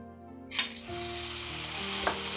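Ground beef hits hot oil in a pan over medium-high heat, bursting into a loud, steady sizzle that holds throughout, with a brief spatter flare near the end.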